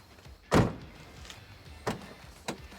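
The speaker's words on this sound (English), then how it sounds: "But now I'm going to close the door." A single solid thud of a 2004-2008 Ford F150 extended cab rear door closing, followed by two lighter knocks and clicks a second or two apart, with no talking.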